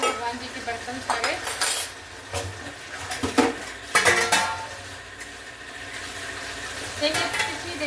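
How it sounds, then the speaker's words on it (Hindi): Washed metal pooja utensils being put away in a home kitchen, with irregular clinks and clatters of dishes and pots set down close by, some louder knocks among them, and running water faintly behind. "यहाँ रख देती हूँ भगवान जी के बर्तन सारे।"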